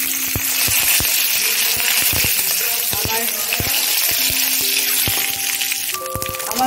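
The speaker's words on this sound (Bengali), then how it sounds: "একটা তেজপাতা দেব, আর দিয়ে দেব কারি পাতা" Bay leaf and curry leaves are dropped into hot oil for tempering, giving a steady, close sizzle laced with sharp crackles and pops and a few metallic clinks.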